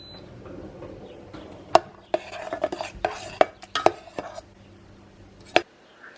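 A kitchen knife on a cutting board gives a handful of sharp, irregular knocks and taps. The cuts are close but fairly quiet, with soft clatter between them in a calm kitchen.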